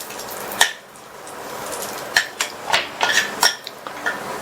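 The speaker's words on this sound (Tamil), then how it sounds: "இது கூட கொஞ்சமா உலர் திராட்சையை சேர்த்து நல்லா ஊப்பி வர வரையும் வறுத்துக்கலாம்" Raisins toasting in a pan for a flattened-rice recipe, heard as a few sharp metallic clinks and scrapes of a spoon against the pan over a soft, faint frying hiss.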